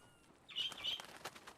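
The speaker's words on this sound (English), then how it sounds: "Bye bye, bird." In a Western-themed roleplay video game, a bird flies off with a pair of quick high chirps and light wing flutter, faint against a quiet background.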